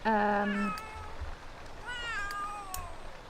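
A cat in The Sims 3 gives two clear meows, a long drawn-out one at the start and a shorter rising one a moment later, fairly close over quiet game background.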